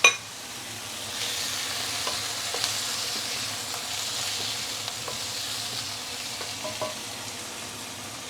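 Marinated spare ribs stir-fry with browning garlic and black bean in a hot pan: a continuous soft sizzle with small spits and light stirring clicks throughout, with no talk.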